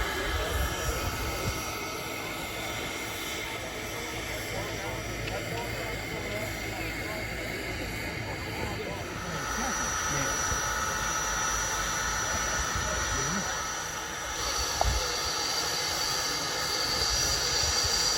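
An East Broad Top steam passenger train runs south on an August staff special, giving a steady, broad rumble and hiss that fills the whole stretch at moderate distance, with no talking.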